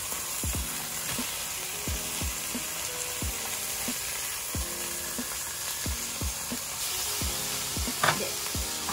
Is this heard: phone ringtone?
no